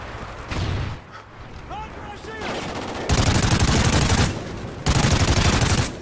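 Gunfire in the Call of Duty Ghosts campaign mission "Birds of Prey", with loud bursts of rapid automatic fire in two long volleys, preceded by game sounds and occasional whooshing tones.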